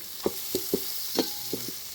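Dried red chillies fry in a pan with lentils and garlic for an okra chutney, a soft steady sizzle broken by several quick stirring scrapes and taps, with no voices.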